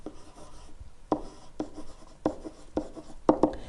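Chalk or marker strokes while hand-writing a base graph for a math lesson on graphing with e as a base, a handful of short scratchy taps and scrapes spaced irregularly, close and moderately quiet with no talk.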